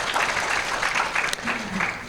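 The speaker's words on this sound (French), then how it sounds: "Est-ce qu'on peut applaudir Dr Saro, s'il vous plaît?" Audience applause at a French-language conference on positive masculinity, steady and moderately loud clapping from a seated crowd lasting a couple of seconds, with a voice briefly heard in the background.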